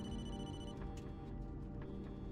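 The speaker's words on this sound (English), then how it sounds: "Talk about an old school phone." An old-school Nokia phone rings with faint, repeating electronic trills at a moderate distance, set against a steady background murmur.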